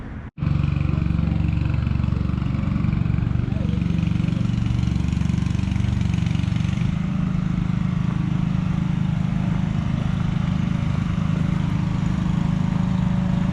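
A small forklift engine drives a 12x30 shed across a yard. After a short click it starts and runs loud and close as a steady, unbroken mechanical drone with a throbbing low rumble, and nobody speaks.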